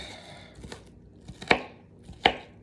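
Onions being chopped for a stew chicken gravy, heard as a few distinct knife strikes on a cutting board, two of them louder and sharper, spaced irregularly and close up.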